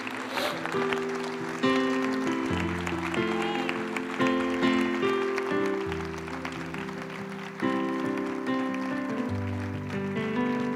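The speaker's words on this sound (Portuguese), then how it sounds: "Não vale mais a pena, mais uma vez, uma salva de palmas do Senhor Jesus?" A church congregation claps in praise of Jesus during a Portuguese-language service. The clapping sits under prominent music with sustained tones and changing chords, and it continues at a moderate level for the whole passage.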